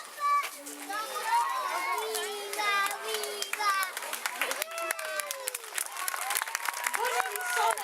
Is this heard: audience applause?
yes